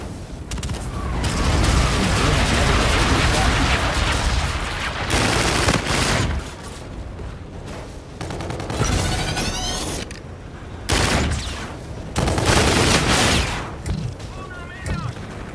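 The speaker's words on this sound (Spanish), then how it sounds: "Bombardeo amigo en camino." Heavy gunfire and explosive booms from a friendly bombardment in a Call of Duty: Infinite Warfare team deathmatch, with loud sustained blasts and bursts that break off and return in waves, and game voice callouts under the din.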